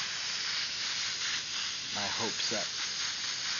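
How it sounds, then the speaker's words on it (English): An airbrush sprays yellow paint through a stencil, a steady loud airy hiss running throughout while someone talks briefly over it. "we're spraying yellow for no reason"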